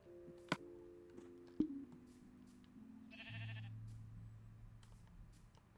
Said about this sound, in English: It's a pink sheep.